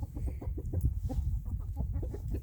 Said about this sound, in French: on voit les poules dans la basse-cour